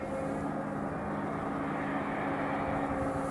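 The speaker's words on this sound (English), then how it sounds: "Curtiss C-64 Commando, Everts on its way in" Curtiss C-46 Commando coming in to land at Ted Stevens International Airport in Anchorage, a steady, distant propeller-engine drone with a faint rumble that holds throughout.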